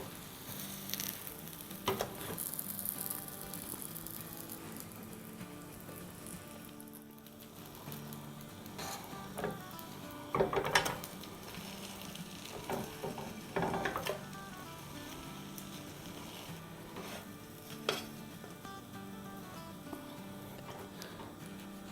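Omelet sizzling in a buttered pan just after being flipped, a steady low frying crackle running throughout with a few sharper ticks and clinks of a utensil against the pan.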